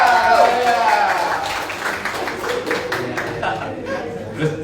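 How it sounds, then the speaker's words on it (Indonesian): A church congregation breaks into applause, a moderate scattered clapping that fades over a few seconds beneath chatter and a preacher's voice. "Beri tepuk tangan buat Tuhan."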